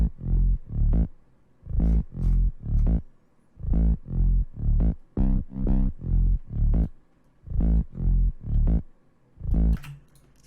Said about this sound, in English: the main pattern for the bass, which sounds like this.